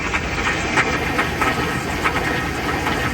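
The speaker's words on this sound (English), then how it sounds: "Oh, it's making some rough sounds when it started." A Ford Ranger PHEV on a cold start in full-electric mode with the combustion engine off and the battery full gives a loud, continuous rough rumbling drone with a faint rhythmic clatter running through it.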